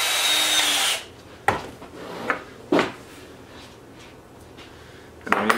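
A power drill driving self-tapping screws into a wooden mealworm farm, with short separate bursts of whirring and scraping between quiet pauses, close up.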